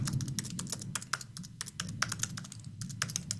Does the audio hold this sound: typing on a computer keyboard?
yes